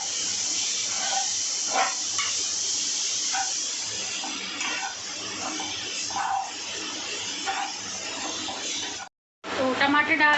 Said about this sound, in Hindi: अब इसमें डाल देंगे ये टमाटर